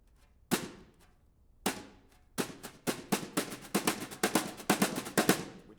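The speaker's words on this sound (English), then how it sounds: "you're basically bringing the brush down and letting it hit and muffle the head at the same time" A drum brush strikes a drum head in short, dull, muffled hits, sparse at first and then quickening into a dense run of close, crisp strokes.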